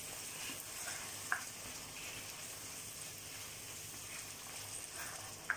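Roasted ground spices, including white cumin, stirred into a sizzling karahi of seekh kebab mixture, a soft steady crackle with a couple of faint scrapes of the spoon, quiet and without talk.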